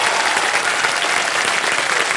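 Studio audience applause on the quiz show Kaun Banega Crorepati, a loud, even roar of many hands clapping without pause, filling the whole stretch with no voices over it.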